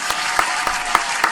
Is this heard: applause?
yes